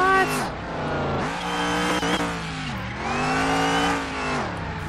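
Race car engine in the video game Car Mechanic Simulator 2021, revving hard and pulling through repeated gear changes, with rising and falling whine and brief tire squeal, loud and close.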